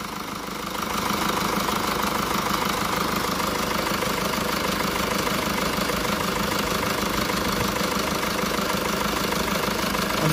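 A Mercedes E-Class 2.0 diesel engine idles steadily at close range, a dense, even rumble with a faint knocking texture and no voices.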